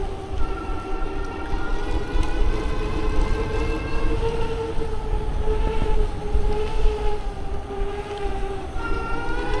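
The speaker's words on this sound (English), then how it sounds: "You can hear the motor, it's not too loud." A Blix Vika+ electric bike motor gives a steady whine with layered tonal harmonics, drifting slightly in pitch, over constant road and wind rumble; no one speaks.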